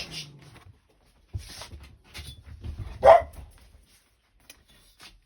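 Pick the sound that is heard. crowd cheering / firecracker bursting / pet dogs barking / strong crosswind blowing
pet dogs barking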